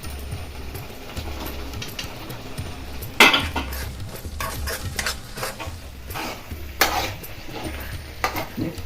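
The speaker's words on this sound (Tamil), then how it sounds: "இப்போ ரெடி பண்ணி வச்சுருக்கிற மீல் மேக்கர் போட்டுக்கலாங்க." Soy chunks are added to a yogurt gravy and stirred in a pan. A spoon scrapes and clinks against the metal with a sharp knock, over a low sizzle that runs throughout.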